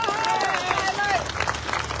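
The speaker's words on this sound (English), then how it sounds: "Ladies and gentlemen, give him another round of applause." A studio crowd at a butchers' competition gives Luke Thomas another round of applause. A voice rises over the start, then broad clapping carries on at moderate level.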